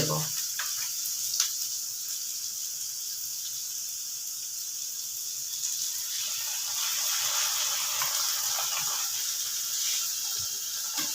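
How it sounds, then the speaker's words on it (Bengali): An egg snack with tomato ketchup stirred in a pan, giving a faint continuous sizzle and hiss with soft, indistinct stirring underneath. "এবার ভালো করে টমেটো কেচাপটা মিশিয়ে নিতে হবে"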